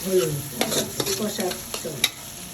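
Onion, white garlic and turmeric sautéing for a potato curry, with a steady sizzle and repeated scraping strokes of a spoon stirring the pan up close.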